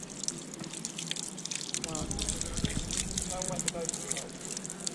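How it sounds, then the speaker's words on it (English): Mountain spring water trickling and dripping steadily in Italy, a soft, continuous close trickle with faint voices speaking over it. "Oh, water from the mountain."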